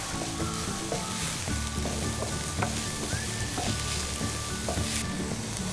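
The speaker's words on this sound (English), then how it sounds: "I'll now add the chopped capsicum. Saute for another 2 to 3 minutes." Chopped capsicum sautés in a hot pan for ginger capsicum fried rice, giving a steady, close sizzle with occasional stirring scrapes throughout, under faint background music and with no talk.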